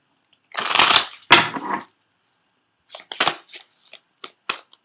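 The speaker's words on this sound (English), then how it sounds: "I'm also going to pull 3 cards from the Doreen Virtue Romance Angel Oracle cards as well." Doreen Virtue Romance Angel Oracle cards being shuffled: two crisp riffling bursts up close, then a pause followed by a scattering of lighter card flicks and taps.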